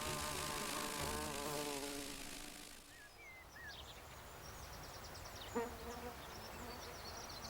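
Low droning buzz of a buff-tailed bumblebee in flight close by, fading after a few seconds into quieter outdoor ambience with faint high chirps and a brief soft knock.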